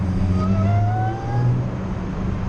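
An Audi S4 with an intake upgrade accelerates, its supercharger producing a thin rising whine over the low engine drone, heard close and steady for a couple of seconds.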